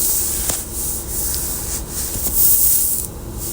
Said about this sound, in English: I've started breaking the soil up kind of gently,